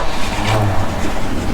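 A 1977 Chevy C60 truck engine, a vintage race car hauler sitting for ten years, runs loud and steady just after starting, a close continuous rumble with no talking.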